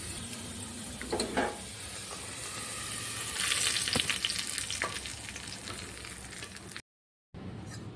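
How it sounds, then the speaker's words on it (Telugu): An onion tempering poured into spinach dal sizzles loudly and steadily, with stirring clatter and a brief cut to silence near the end. "ఆనియన్స్ బాగా వేగిన తర్వాత ఈ తిరగవాతను పప్పులోకి వేసుకోవాలి"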